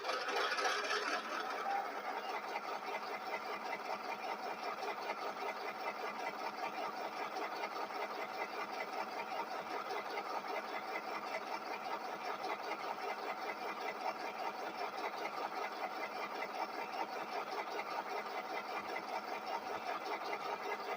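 A GP18 model locomotive, number 926, runs with its engine sound turned up loud, giving a steady rumbling drone with a fast pulsing texture. It keeps an even level throughout with no talking.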